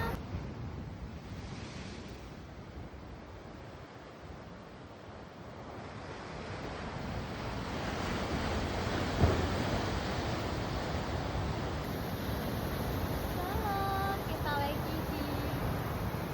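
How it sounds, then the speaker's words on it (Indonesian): Ocean surf rolls steadily onto Karanggantungan beach, a broad continuous wash of breaking waves with wind buffeting the microphone, swelling louder toward the end. "Ombaknya, Masya Allah banget."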